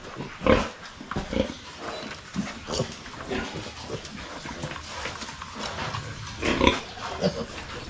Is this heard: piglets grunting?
yes